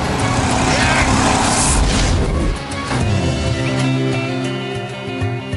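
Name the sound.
Jaguar XK convertible being driven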